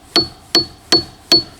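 Four sharp metallic taps of a chisel striking a crystal geode, evenly spaced about every 0.4 seconds, each with a bright ringing ping that decays quickly, close and clear with no talk.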